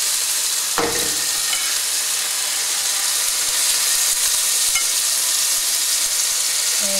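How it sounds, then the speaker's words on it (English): Steak and chicken sizzle steadily in hot oil, a continuous bright crackling hiss with a brief clatter near the start. "So they start frying up."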